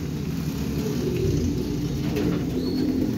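Racing pigeons cooing at a loft as birds return from training, low repeated coos over steady outdoor hum, with faint chirps and a passing car.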